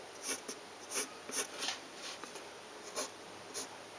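Pencil strokes on paper as lines of an anime face drawing are darkened, with short, soft scratchy sweeps repeating every half second or so, close and quiet against a faint steady hiss.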